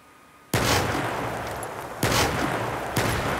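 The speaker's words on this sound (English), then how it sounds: "I'll shoot the left one, and then you see what happens when I shoot it" An explosive barrel is shot and blows up in a Unity first-person shooter game, with a loud sudden blast followed by two further sharp booms in quick succession, all alone without talk.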